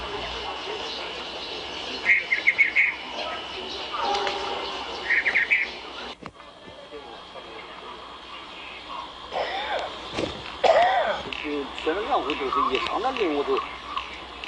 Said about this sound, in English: In China, they walk their songbirds.